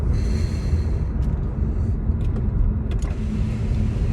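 A car in motion, heard from inside the cabin: a steady, loud low rumble of engine and road noise runs throughout, with a few faint ticks and clicks on top.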